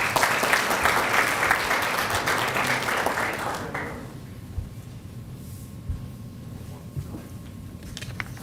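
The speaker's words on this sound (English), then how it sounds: "please join me in giving these graduates another round of applause." Audience applause at a basic law enforcement training graduation ceremony for police graduates, a dense burst of clapping that fades after about four seconds into a quieter room with occasional thumps.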